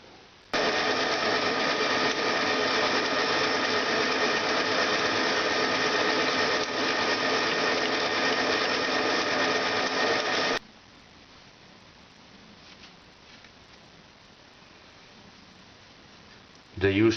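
A lathe tool bit cuts a casting for a compressed air engine part: a steady, loud grinding scrape holds for about ten seconds, then drops away to quiet background noise before a brief clunk at the end.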